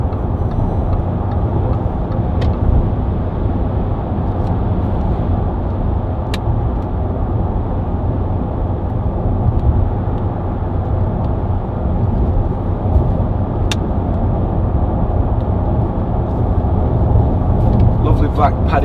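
Range Rover 4.4 TD V8 Westminster cruising on a motorway, a steady loud low engine and road drone heard from inside the cabin with tyre rumble, constant throughout with a few faint clicks.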